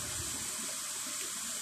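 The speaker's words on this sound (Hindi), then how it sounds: "वो नीचे से पानी देखो, ये जो वाइट नज़र आ रहा है ये पानी जा रहा है" Water rushing far below in a mountain valley village at dusk, a steady, faint broadband wash with no pauses, heard from a distance and alone.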